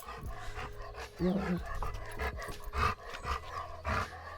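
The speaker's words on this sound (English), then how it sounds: "my neighbour has this dog and he's absolutely brilliant" A neighbour's dog gives a few short growly barks and panting sounds close by, interspersed with a person talking.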